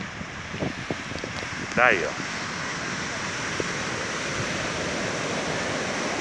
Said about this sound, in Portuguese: Não sei se é devido ao vento que está fazendo aqui, mas bate bastante, ó.